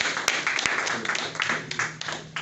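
Audience applause welcoming a speaker to the stage at a testimony gathering, a steady wash of many hands clapping at moderate distance with a few sharper individual claps standing out.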